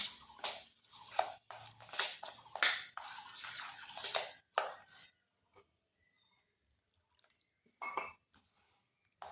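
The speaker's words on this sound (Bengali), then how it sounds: "যে বাটিতে ময়দার সুজি মাপ করেছি সেই বাটিতে মেপে করে জল নিচ্ছি" Measured water is poured from a bowl into flour and semolina for a pitha batter, several splashy pouring bursts with a faint clink, then quiet before a final short pour.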